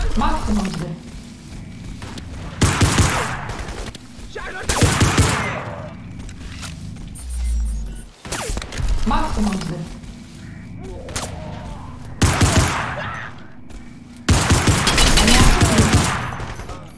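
Repeated pistol gunfire in the video game Crysis Remastered, with loud bursts of shots recurring every few seconds alongside a player talking over the action.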